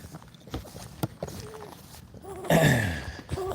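A horse shifts and steps about nearby, a few hoof clops and scuffs scattered over a noisy outdoor background, with a louder burst of movement midway through.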